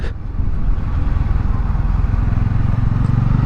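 A motorcycle engine rumbles close by for several seconds, a steady loud low drone that sounds like a yellow naked-style bike of about 700 cc going past during a ride.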